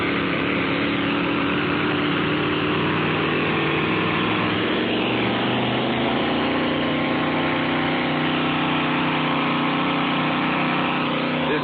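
A continuous, loud racing hydroplane engine roar with a droning rumble holds steady throughout, its pitch shifting slightly as the boat pulls away from the dock.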